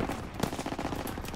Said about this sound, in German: Schüsse! Unsere Jungs müssen in der Nähe sein.